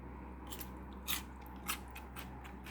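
A couple of crisp, crunchy bites of lotus root sound close to the mic against a quiet, hissy background.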